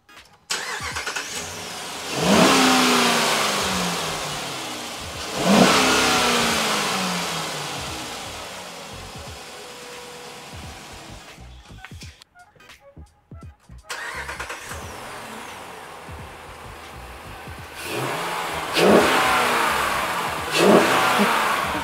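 The 5.7 HEMI V8 of a 2012 Jeep Grand Cherokee with a cold air intake revs hard several times, the revs hanging before dropping back to a rumbling idle, loud and close throughout.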